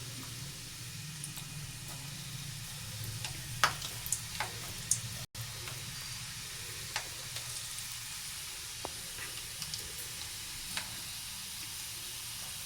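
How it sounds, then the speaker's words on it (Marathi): Spiced masala peanuts frying in hot oil: a continuous low hiss of sizzling with occasional small ticks and pops, fairly quiet and steady, with nobody speaking. "आपण आता याच्यात मसाला शेंगदाणे सोडू."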